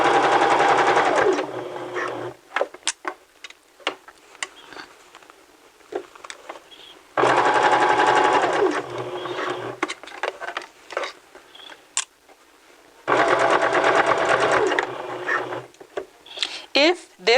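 A sewing machine stitching fabric pocket pieces in three bursts of steady whirring with fast needle ticks, separated by quieter stretches of handling noise, with a person talking across the clip.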